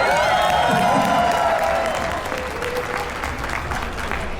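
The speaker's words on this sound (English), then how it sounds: "That deserves another round of applause." Guests at a wedding weekend party at a resort break into sustained applause with some cheering, a full crowd wash that starts strong and eases slightly, with a voice speaking over it.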